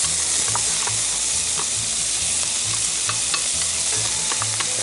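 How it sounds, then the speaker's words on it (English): Onions sweating in a hot cast iron pan over a fire, producing a loud, steady close-up sizzle and crackle with occasional stirring clicks, and no speech. "Now we're going to get our onions and start sweating them down."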